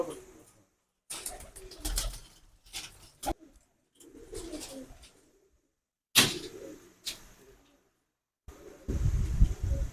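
Pigeons coo nearby in repeated throaty bursts separated by short silences, with some wing or perch rustling and a louder burst at the end.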